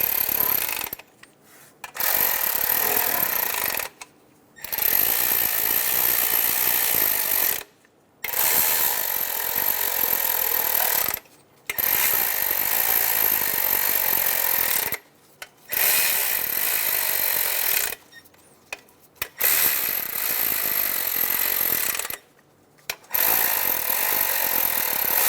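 Ratchet wrench snugging intake manifold cover bolts on a 2003-2007 Honda Accord 3.0L V6, rapid clicking bursts of several seconds each separated by brief pauses, close and loud with no talk.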